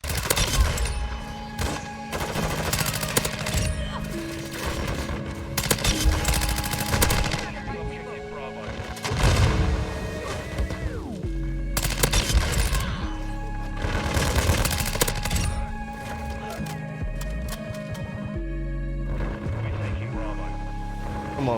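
Rapid automatic weapon fire in the Modern Warfare 2 video game, continuous bursts of gunshots with booms and impacts layered under game music and effects, loud and sustained throughout.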